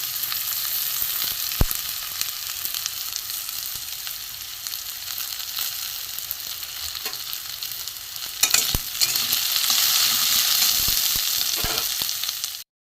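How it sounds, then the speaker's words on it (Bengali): Spiny gourd sizzles and crackles steadily in a hot pan, with occasional scraping stirs and a brief louder burst of frying toward the end. "একটু লাল করে ভেজে নেবো প্রথমে"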